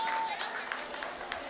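An audience at the 2021 Allen County Fair 4-H Rabbit Show applauds a Best in Show winner: a soft, steady patter of clapping that fills the room, with a voice talking over it.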